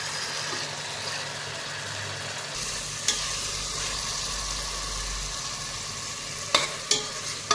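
Chicken biryani masala frying in a pan, a continuous hissing sizzle with a low hum beneath and a few sharp clacks of the stirring spoon, close and without talk.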